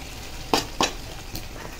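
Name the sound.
masala added to softened tomatoes, sizzling in the pan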